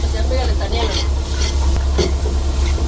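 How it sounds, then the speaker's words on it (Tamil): Garlic sizzles and crackles steadily in a pan while being stirred in a seaside fish cooking setting, close and loud, with occasional scraping strokes over a constant low hum. "பாருங்க, பூடை நல்லா வதக்கிக்கங்க."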